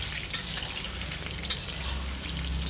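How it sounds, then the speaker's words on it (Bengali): Potatoes fry in hot oil until reddened for a meat curry, a continuous close sizzle with a soft stirring scrape and one brief sharper crackle midway, no voices over it. "আলুটাকে ভালো করে ভেজে নিতে হবে লাল লাল করে মাংসের জন্য।"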